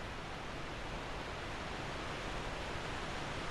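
Steady broadband rush of a waterfall in the video game Dark Souls II: Scholar of the First Sin, an even, continuous wash of falling water at constant level with no other sounds over it.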